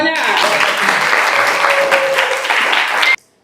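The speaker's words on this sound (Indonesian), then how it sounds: "tepuk tangan semuanya." A class of students claps loudly and steadily in a classroom, a dense burst of applause lasting about three seconds before cutting off abruptly.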